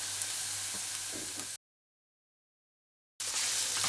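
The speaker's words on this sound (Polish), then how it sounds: "Smażę przez chwilę i kiedy czosnek zaczyna już aromatycznie pachnieć, dodaję wątróbkę." Chicken livers sizzle and crackle with garlic in a hot pan, a steady frying hiss cut by a stretch of complete silence before resuming.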